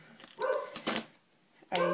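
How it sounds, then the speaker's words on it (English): A dog barks three times in short, separated bursts, fairly close, with quiet pauses between the barks. "I'm sorry if you can hear my dog barking."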